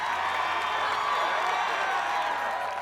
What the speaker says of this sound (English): Look at the crowd, they're getting excited.